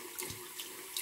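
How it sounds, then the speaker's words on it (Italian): Tap water runs steadily into a sink, warming up for wetting a shaving brush; a soft, continuous hiss of flow, fairly faint and close, with no voices. "Faccio scorrere l'acqua, la faccio scaldare un attimo"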